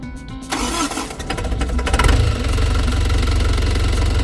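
A diesel overlander truck engine cranks briefly at high altitude, catches, and settles into a loud, steady rumbling idle close by.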